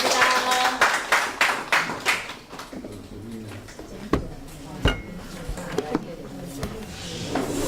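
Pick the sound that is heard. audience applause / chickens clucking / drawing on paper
audience applause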